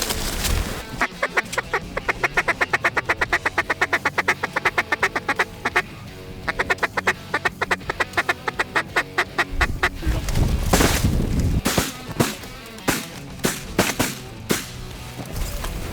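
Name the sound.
mallard ducks and shotgun fire during a duck hunt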